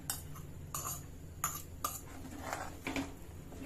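A spoon scrapes and knocks against a pan while kesar modak mixture is stirred, a handful of faint, irregular clinks over quiet background.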